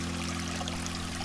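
Steady flowing water, like a stream running over obstacles, plays as a continuous even rush with a low steady hum beneath it, moderately quiet and with no voices.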